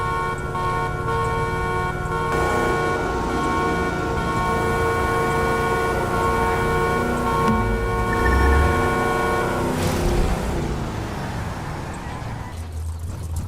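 A car horn blares in a long, steady, echoing tone over the rumble of an engine, reverberating inside a road tunnel.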